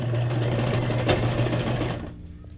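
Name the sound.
sewing machine stitching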